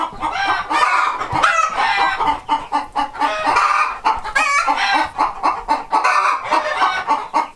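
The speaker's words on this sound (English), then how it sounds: "now that I've caused an uproar in the chicken coop by collecting eggs" Chickens in a coop cluck loudly and agitatedly after eggs are collected, with dense overlapping squawks and calls coming in bursts and a brief crow-like call partway through, close by and with no talking.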